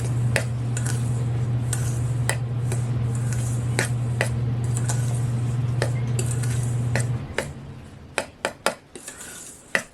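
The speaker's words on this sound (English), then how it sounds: "Just want to mix that till it's combined" Crumble topping of flour is mixed in a bowl, with repeated sharp utensil clicks and scrapes against the bowl over a constant low hum that stops late, leaving a few louder knocks.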